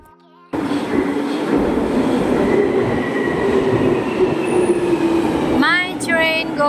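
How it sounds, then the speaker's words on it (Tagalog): A train at a UK railway station rumbles loudly and steadily nearby, with wheels squealing near the end as it slows. "My train going to Willesden. Arrive at 9:28."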